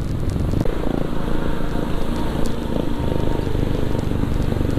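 Royal Enfield Bullet motorcycle exhaust heard while riding on a highway, a steady loud low thumping engine drone with continuous wind and road roar, no talk.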